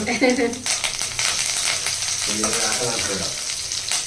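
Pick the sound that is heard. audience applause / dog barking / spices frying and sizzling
spices frying and sizzling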